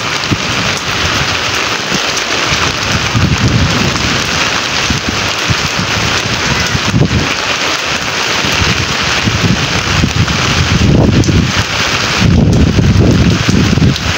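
Heavy rain pours steadily in a storm while strong wind gusts roar over it, a loud dense wash that swells in places, close and continuous, with no talking.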